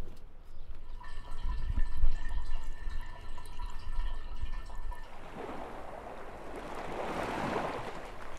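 Water refills a camper van's tank in Chalkidiki, Greece, with quiet dripping and trickling that turns into a softer, steady rushing flow partway through.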